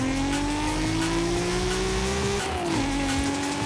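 A Toyota car pushed to 760 horsepower in the racing game Forza Horizon 5, a loud sustained engine drone climbing steadily in pitch, then a quick dip as it shifts gear, with faint tire noise underneath.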